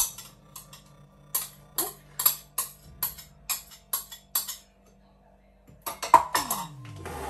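Pancake batter stirred in a bowl with a utensil, a series of sharp clinks against the bowl in a steady rhythm, close up, then a short pause and a quicker flurry of taps.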